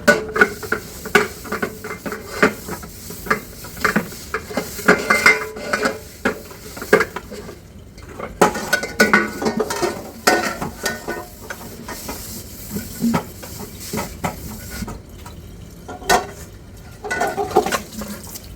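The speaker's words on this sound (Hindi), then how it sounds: "मेरी स्पीड देखो तुम बर्तन साफ करने की" Dishes, pots and cutlery being washed in a kitchen sink, with irregular clinks and clatters over running water, fairly close and steady throughout.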